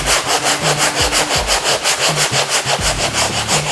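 A 1000-grit foam sanding pad scuffing varnish on a leather seat in short, quick back-and-forth strokes, a loud, rhythmic rasping heard close up at roughly four strokes per second.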